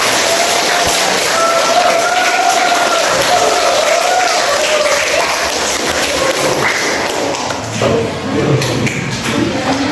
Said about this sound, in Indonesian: silakan kita tepuk tangan untuk kelompok